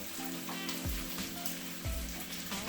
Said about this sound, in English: So I have the bacon on.